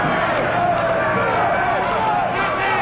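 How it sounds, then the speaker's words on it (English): A noisy crowd of protesting pickets at a military command post shouts and chants together in a dense, continuous roar of many voices. "A crowd of noisy pickets descended on the command post, protesting the presence of nuclear weapons."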